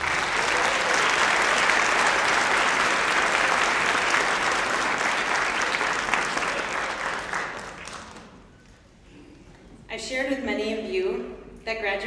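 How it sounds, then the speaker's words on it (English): A graduation audience at Brainerd Learning Center claps in loud, dense applause that fills the room for about eight seconds, then fades, and a speaker starts talking near the end. "Please give them all a round of applause."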